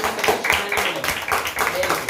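A group of participants at a handwriting workshop clap for themselves, giving steady, moderately loud applause from many hands throughout, with talk mixed in.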